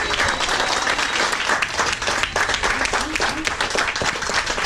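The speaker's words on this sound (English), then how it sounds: "Give them a round of applause." Audience applause at a Rotary gathering honouring Interact Club members, a steady, full burst of crowd clapping that holds at an even loudness throughout, with no spoken words.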